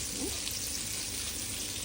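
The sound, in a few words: chicken frying in oil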